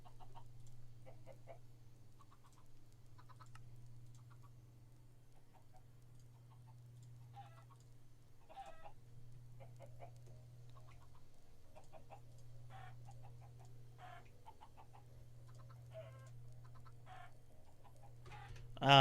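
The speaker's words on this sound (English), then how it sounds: "Ah, the glorious sounds of chickens being murdered." Chickens cluck in a Minecraft game as they are killed, short faint scattered clucks over a steady low hum, fairly quiet and alone without talk.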